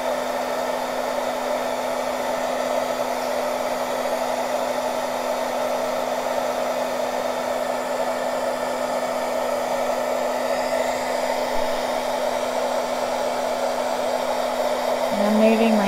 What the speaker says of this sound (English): And I'm moving my heat gun around.